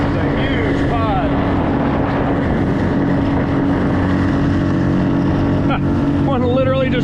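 Steady drone of a motorboat engine running up close, with wind buffeting the microphone and water rushing past as a large pod of animals swims alongside.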